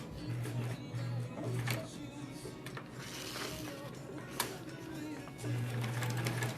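A sewing machine stitching down appliqué fabric for a quilt block runs in steady whirring bursts, stopping briefly in the middle and then starting again, close by with no talking.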